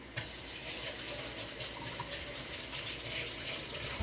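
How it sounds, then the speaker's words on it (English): Hands being washed under a running kitchen tap: a steady, continuous rush of water splashing into a sink, fairly close and uninterrupted throughout, with no talking. "wash my hands"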